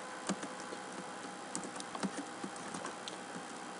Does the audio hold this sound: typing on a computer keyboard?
yes